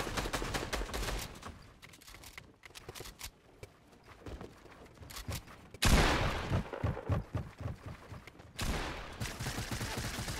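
Rapid gunfire in an online duos shooter game crackles in dense bursts, with a louder, harsher volley midway, steady and close and without speech.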